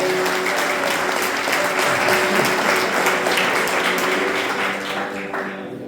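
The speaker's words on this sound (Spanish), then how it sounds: "déle un fuerte aplauso y glorifique el nombre del Señor Jesús" A church congregation breaks into loud, sustained applause during a Sunday service, a thick wash of many hands clapping together that holds steady for several seconds before tapering off at the end.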